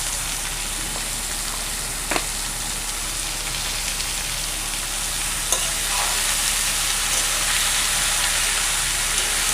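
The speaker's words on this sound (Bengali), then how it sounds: "এটা দিয়ে এবার ভালো করে এটাকে কষিয়ে নেব লতিটাকে" Taro stems stir-fried with spices in a pan, a continuous dense sizzle with a couple of sharp scraping knocks from stirring.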